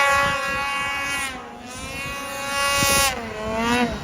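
An Arctic Cat 858 snowmobile rides through backcountry terrain, its engine a loud, high whine that rises and falls in pitch with throttle changes, close and steady.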